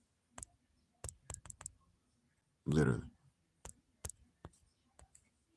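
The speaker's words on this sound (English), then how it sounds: "I'm typing something and it's not popping up." Sparse clicks and taps of typing on a computer keyboard, a scattering of sharp isolated keystrokes with a brief spoken remark in the middle.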